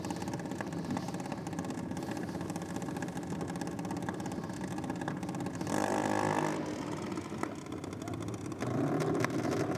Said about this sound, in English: Danielle about to come out in her A-Class Junior Dragster out of London, one of our local races